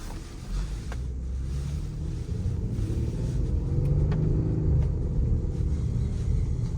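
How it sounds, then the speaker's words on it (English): A 2020 Ford Explorer Limited Hybrid's engine runs with the SUV in drive, giving a steady low rumble that swells slightly over several seconds, heard from inside the cabin with no talking. "engine on due to drive mode"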